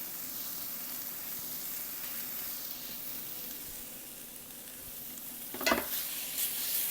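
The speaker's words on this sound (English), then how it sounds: "a chef's favorite noise is that searing in the pan" Chicken sears in a hot pan with a steady, fairly quiet sizzle, and one sharp scrape or clatter near the end.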